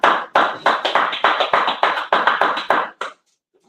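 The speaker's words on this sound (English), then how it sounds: "go ahead, clap it up" A church congregation at a Sabbath service clapping together in a brisk, rhythmic pattern of about a dozen sharp claps, close and loud, stopping abruptly.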